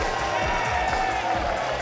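A wrestling crowd at an NWA event roars and cheers after a tag-team match, a dense, continuous wash of crowd noise with scattered whoops heard from within the arena.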